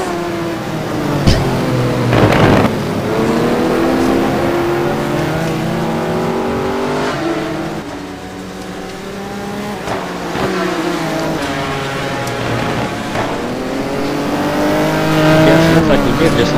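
A Ferrari GT1 race car is driven hard around Valencia in a racing game, its engine revving up and down through gear changes with squealing tires, loud and continuous under a commentator's talk.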